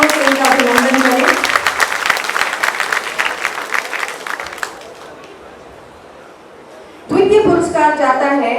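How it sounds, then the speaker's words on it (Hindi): Applause from a university Hindi Diwas celebration audience greeting a prize winner called to the stage, dense clapping under a voice at first, fading to quiet before a speaker resumes talking. "जोरदार तालियों से इनका अभिनंदन करें।"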